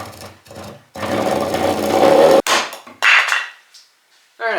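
A sharp chisel paring pine for a timber frame brace gives close, loud scraping strokes, a long shaving push and several shorter cuts separated by pauses.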